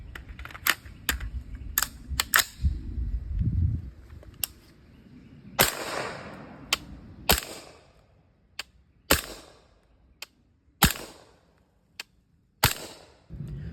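A suppressed .300 Blackout firearm fires 200-grain Winchester Super Suppressed rounds, giving a series of sharp, close cracks at irregular intervals, some in quick clusters and others spaced a second or more apart.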